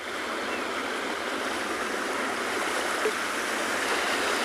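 Steady, broad wash of surf and breaking water fills the air evenly without pauses, a continuous seaside roar heard from a South African shore with no voices over it.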